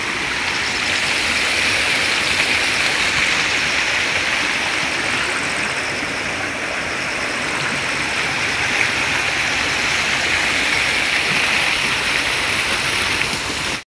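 A small stream in a forest rushes and splashes in a continuous, broad hiss of flowing water, close and steady throughout with no voices over it.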